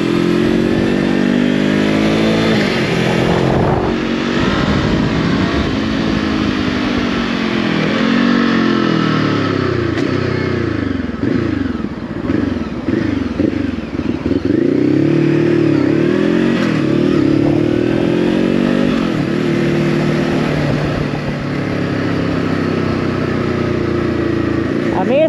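A 2023 Voge 525 ACX motorcycle rides on a highway, its engine droning loud and near with rising and falling revs as it shifts through gears, amid wind rush and a rider's voice at times.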